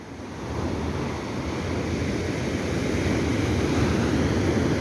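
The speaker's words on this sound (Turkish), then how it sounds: "Denizin sesini dinleyin canlar." Steady roar of sea surf washing onto the shore, continuous and fairly loud, with wind rumbling across the microphone.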